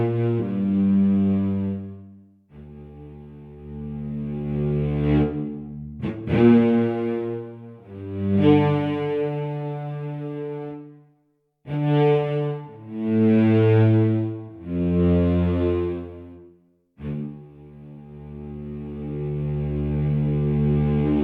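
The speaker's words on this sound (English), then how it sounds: "So here is a modeled cello." A SWAM physically modeled cello plays a slow, expressive melodic line with effects, sustained bowed notes with vibrato and brief pauses between phrases, close and alone.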